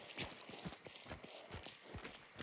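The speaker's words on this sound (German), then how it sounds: "Ach, da ist ein Pferd." Rhythmic clip-clop of horse hooves in the video game Hunt: Showdown at a steady walking pace, soft and moderately distant, repeating evenly throughout.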